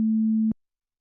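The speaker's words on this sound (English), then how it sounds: "And the sine wave sounds like this." A synthesized pure sine wave tone plays as a single steady low hum for about half a second, then cuts off abruptly and leaves silence.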